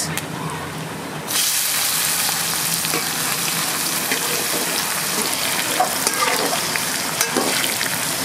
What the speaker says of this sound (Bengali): আমরা এই বড় কড়াইতে ডালে সম্বারা দেবো আজকে।